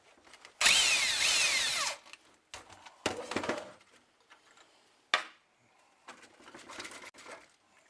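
An impact or power tool spins off the top nut of a Nissan Pathfinder R50 front strut with the coil compressed: a loud whirring burst, then several shorter bursts and a clink, close up between quiet gaps.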